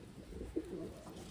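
Wantai pigeon giving a single soft, low coo partway through a short, quiet stretch, alone over faint background hiss with no talking.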